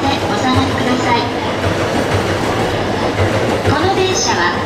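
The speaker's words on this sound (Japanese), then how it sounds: "21番線にはやぶさ386号が入ります。" A Hayabusa Shinkansen pulls into a platform at Tokyo Station. Steady rail rumble and wheel clatter run throughout with faint squeals, and voices murmur under the noise.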